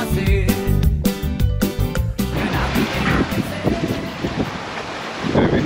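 Wind roars steadily over a sailboat crossing the Pacific toward Nuku Hiva in the Marquesas, loud and close. Waves rush beneath it after a short stretch of music at the start.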